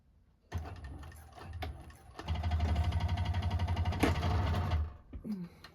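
A sewing machine set to a long stitch length runs through a thick layer of bag fabric. It starts with a short burst, pauses, then stitches steadily and rapidly for a couple of seconds before stopping, with a few faint clicks afterward.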